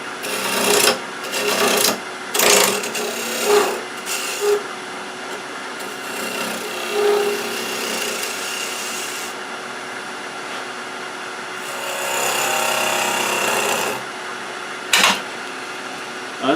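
A skew chisel cuts wood spinning on a lathe, giving close scraping and rasping bursts, some sharp catches, then a steadier rushing cut over the constant motor hum.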